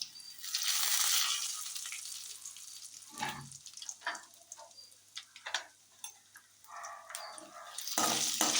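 Vadagam fries in hot groundnut oil with loud bursts of sizzling, the strongest at the start and end. Sharp crackles and pops come through in between.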